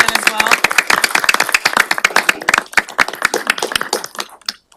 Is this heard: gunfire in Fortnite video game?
no